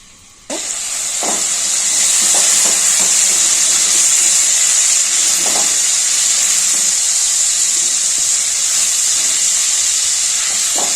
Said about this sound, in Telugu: మళ్ళీ ఉల్లిగడ్డ వేసి తిప్పుతానండి